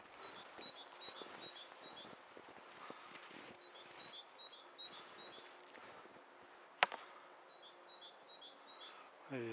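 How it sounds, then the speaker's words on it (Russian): Small birds chirp and twitter in early spring outdoors at a snowy ski area, repeated short high calls in brief bursts spread through the clip, fairly faint against a steady outdoor background with a sharp click near the end. "Уже птички вовсю чирикают."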